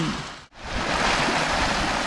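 Water flowing through a newly dredged canal or stream where someone is fishing, a continuous loud rushing wash after a brief dip at the start, steady and close with no talk.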